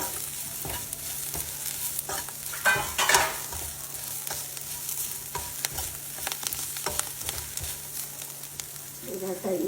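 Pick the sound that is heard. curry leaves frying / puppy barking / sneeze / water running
curry leaves frying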